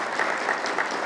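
Audience applause in a lecture hall during a talk on communication and collaboration, a dense, steady wash of many hands clapping, fairly loud and close, continuing without pause.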